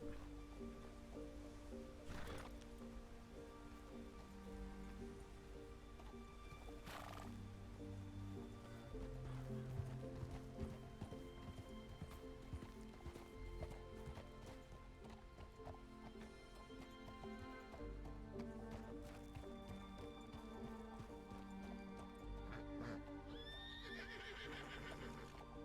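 Horse in the video game RedM neighs and whinnies amid a steady rhythmic clip-clop of hooves on a rough path, with faint ambient game sound underneath.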